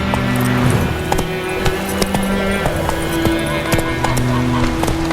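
In The Witcher 3: Wild Hunt, a horse's hooves clip-clop at a steady trotting rhythm, close and fairly loud, over a continuous layer of game ambience and music.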